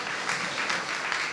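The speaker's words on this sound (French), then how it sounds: "Oui, on peut applaudir, merci." Crowd applause rises at the opening ceremony of Jarry en Fête 2024 in Guadeloupe, a continuous wash of clapping hands that stays even and steady throughout the short stretch.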